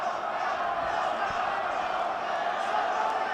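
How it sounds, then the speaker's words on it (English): A crowd at a Hard Knocks Fighting event cheers and shouts, a dense, steady roar of many voices filling the arena throughout. "The crowd going crazy here as the two competing factions, Milko out of Lethbridge"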